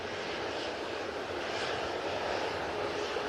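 A Qatar Airways Boeing 787-9 Dreamliner crosses runway 23 right at Manchester Airport, heard as a faint, distant, even wash of jet engine noise that does not change across the moment.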